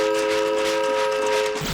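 A loud, sustained train horn blares continuously with rumbling rail noise underneath, close and steady, ending abruptly.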